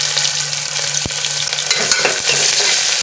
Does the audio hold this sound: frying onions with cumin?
yes